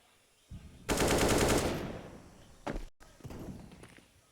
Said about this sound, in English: We've got a Nova on Art. I can't remember the last time I've seen that weapon in play